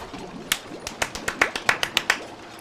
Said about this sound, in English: Golf clap. Rapid golf clap.